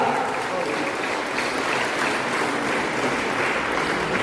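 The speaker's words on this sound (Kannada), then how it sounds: "ಮತ್ತೊಮ್ಮೆ ಚಪ್ಪಾಳೆ ಮೂಲಕ" Steady applause from an audience filling a hall at a sociology department program, dense and continuous throughout with no pause.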